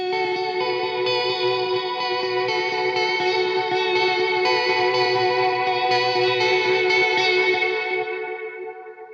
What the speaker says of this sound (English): I have my Echo Park doing delays, the Dark World for a reverb, the MXR reverb, and then my old VB2 vibrato.